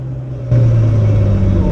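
A race car on a track circuit picks up speed, its engine droning steadily and then jumping louder into a stronger, sustained roar.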